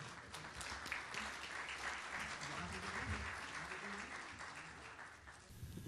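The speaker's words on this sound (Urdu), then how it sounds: "پرجوش تالیوں میں استقبال کریں" Warm applause from an audience at a memorial poetry gathering welcoming a speaker, steady and moderately loud throughout, with some voices mixed in underneath.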